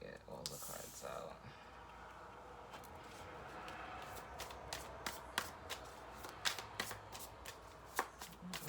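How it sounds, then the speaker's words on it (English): Tarot cards are taken out and shuffled close by, a run of crisp riffling flutters and sharp card taps building into rapid repeated clicks, with a voice talking over the start. "Let me get all the cards out."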